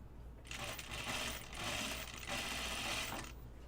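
Close, quiet sewing machine stitching along a seam on a caftan bodice panel, a fast rattling run in three joined bursts with slight dips between them over a low steady hum.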